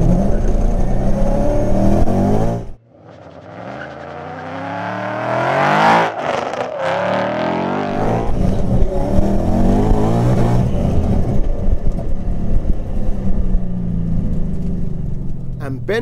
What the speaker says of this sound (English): Let's see if the supercharged car can better it.